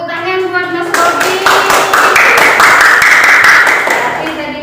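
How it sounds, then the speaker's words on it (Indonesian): In a sixth-grade classroom, children break into a burst of clapping for a classmate, lively and close, starting after a teacher's voice and carrying on for several seconds with some children's voices mixed in. "tepuk tangan buat Mas Robi"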